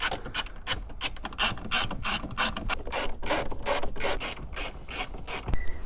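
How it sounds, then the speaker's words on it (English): A ratchet clicks in quick irregular bursts while tightening four 10mm radio mounting bolts inside a Toyota Tundra dash, close and crisp with no talking. "let's reinsert and tighten up our 4 10mm bolts for the radio."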